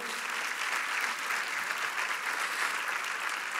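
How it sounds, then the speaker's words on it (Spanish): Church congregation applauding during a Spanish-language sermon: a steady, dense wash of many hands clapping at moderate distance, even in level throughout with no voices standing out. "Demos un aplauso al Señor"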